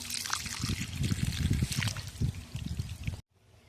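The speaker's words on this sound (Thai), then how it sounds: "เสียงน้ำไหลลงแท้ง" Water splashing and gurgling steadily as it pours into a water tank in a garden, fairly close, cutting off abruptly near the end.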